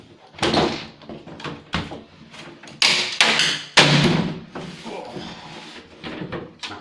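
Plastic casing is pried off a Technika widescreen LCD TV, with a run of sharp snaps, clacks and hollow knocks at irregular intervals, some loud and close, others softer handling noises in between.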